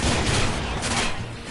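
Sniper gunfire rings out in the Watch Dogs video game, a dense, loud barrage of shots and booms filling the whole moment with little break.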